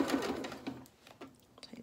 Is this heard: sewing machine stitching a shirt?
yes